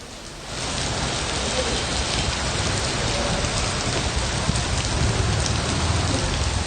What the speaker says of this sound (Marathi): कोल्हापुरात मुसळधार पाऊस पडतोय